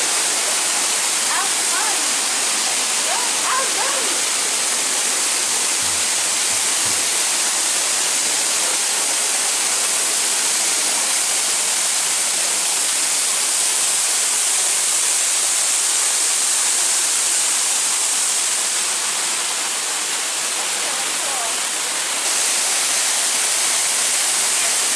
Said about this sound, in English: I imagine that's what a waterfall sounds like.